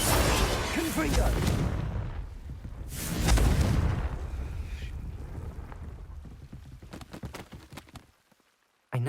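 Confringo blasting spell in the Hogwarts Legacy game, a loud booming explosion that swells twice with rumbling blasts, then fades into crackling debris and decays to near silence.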